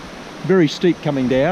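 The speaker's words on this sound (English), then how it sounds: "sorry for the noise from the creek" Creek water rushes steadily at the foot of a steep slope in a national park, where an old mine water race once ended, a broad continuous wash running under a man's close, brief speech.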